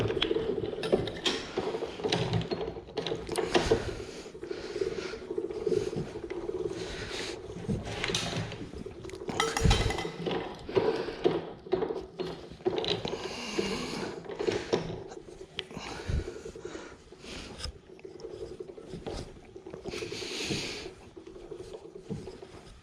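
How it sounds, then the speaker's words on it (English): Hand-cranked rolling mill flattening a copper strip for a handmade ring, a continuous grinding, squeaking mechanical churn with uneven creaks and clicks, close and fairly loud. "Let's run this through the mill and let's begin flattening this bad boy."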